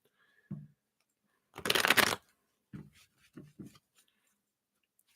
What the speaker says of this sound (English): let's shuffle these up again